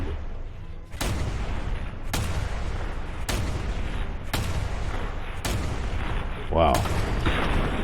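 Heavy gunshots in the video game Fallout 4, six loud separate blasts spaced about a second apart, each with a booming tail, a short exclamation from a voice between them.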